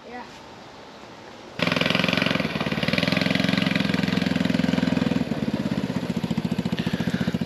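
A mini jeep's small engine cranks and catches after a quiet stretch, then settles into a loud, fast, chugging idle with an even pulsing rhythm close by.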